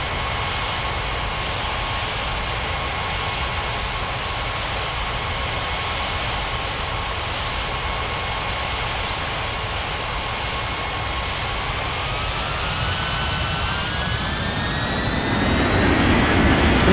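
An Alitalia Boeing 777 jet airliner taking off, its engines a steady, loud broadband roar with a sustained whine that climbs in pitch and swells near the end as thrust builds.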